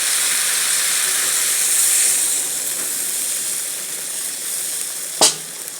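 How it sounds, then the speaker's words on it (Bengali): Water poured into a hot cooking pot for a vegetarian lunch dish, giving a loud, continuous steaming hiss that eases slightly over time, then a sharp clank near the end. "এবার আমি জল দিয়ে দেবো।"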